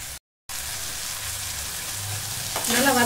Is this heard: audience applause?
no